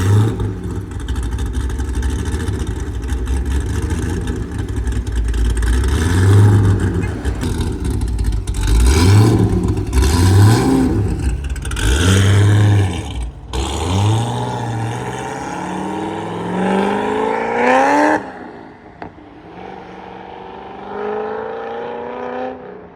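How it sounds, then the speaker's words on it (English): A Ford Mustang accelerates hard and loud, revving up through several gear shifts with rising whines before easing off and fading somewhat. "That Mustang trying to catch Charlie."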